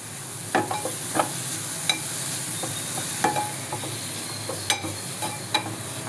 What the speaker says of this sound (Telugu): కారం కొంచెం వేగిన తర్వాత రొయ్యి పొట్టు వేసేసి కొంచెం వేగనిచ్చి